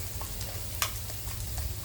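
Pork sizzles and crackles steadily on a hot Thai mookata grill pan, close up, with a brief scrape of a utensil partway through.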